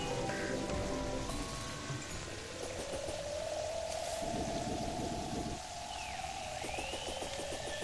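Steady rainfall in the game Terraria, a constant loud patter and hiss that runs throughout, layered with game music and tonal swooping effects, with no voice.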